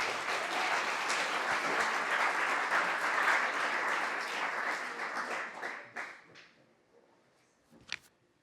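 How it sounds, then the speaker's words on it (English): Audience at a university startup pitch night gives a big round of applause, dense clapping that holds steady then thins out and fades, ending in a few scattered claps. "Can I just get a big round of applause for Ben from Catalyst?"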